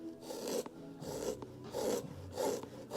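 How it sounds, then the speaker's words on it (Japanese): Leather being shaved with a hand tool at a Kyoto shoemaking demonstration event, giving repeated rasping strokes in a steady rhythm of about four passes, close and fairly loud with brief pauses between strokes. "こうやってやると削ります"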